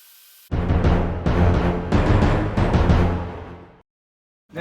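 A saw with its blade tilted to 45 degrees rips through a wooden cleat in a loud, harsh burst of several surging pulses lasting about three seconds, then stops abruptly.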